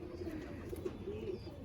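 Pigeons in a Madrasi and Andhra pigeon loft give a brief, soft burst of low cooing nearby.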